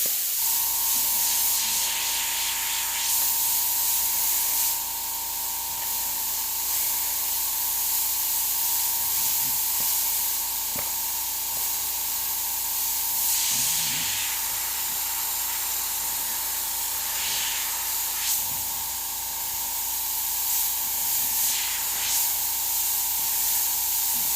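A paint airbrush hisses steadily and up close over the edges of a skull stencil, the spray continuous with slight surges and no voices.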